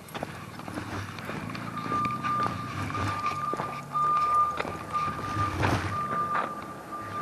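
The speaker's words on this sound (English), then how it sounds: "School bus." Reversing beeps from a school bus ring out in a steady, evenly spaced pattern over outdoor traffic rumble and scattered background noise, moderately close.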